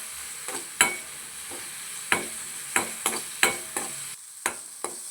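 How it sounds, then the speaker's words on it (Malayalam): Onion, tomato and green chilli are sautéed in a pan, giving a soft sizzle under a series of sharp spoon-on-pan stirring knocks that arrive irregularly, with about eight distinct strikes and no talking. "ഉള്ളി തന്നെ പറയുന്നത്. തക്കാളിയും പച്ചമുളകും ഒന്ന് വഴറ്റിയെടുക്കാം കേട്ടോ."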